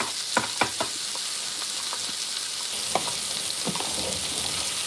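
Onions and mushrooms fry in butter under steak-dinner cooking, a steady close sizzle with a few sharp utensil clicks and scrapes early on and near the end.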